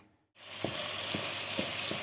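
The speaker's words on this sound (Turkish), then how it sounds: "Tavuklarımı hemen şöyle bir soteleyeyim." Chicken sizzles loudly in a hot pan after a moment of quiet, a steady sautéing hiss with a few soft knocks of stirring.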